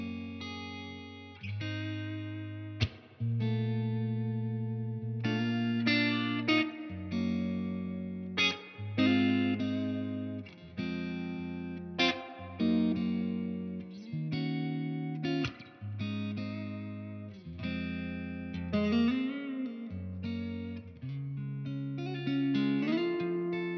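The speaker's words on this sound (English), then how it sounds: "you just get this really gorgeous tube saturated tone" An electric guitar plays through a cranked clean tube amp on its normal channel, warm, saturated chords and single notes ringing out with punchy attacks over a sustained phrase, alone and close.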